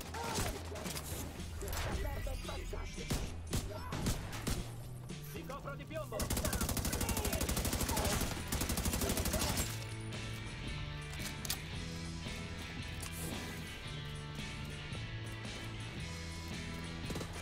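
Pistol shots and reloading in an Italian-language shooter game using an exotic "Dodge City" holster, with game sounds and a dense burst of rapid fire in the middle, set among steady in-game noise.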